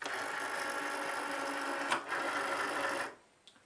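A Cricut Maker cutting machine whirs steadily as it draws the cutting mat in, a loud continuous mechanical hum with a brief bump partway through, then cutting off and fading to quiet with a small click.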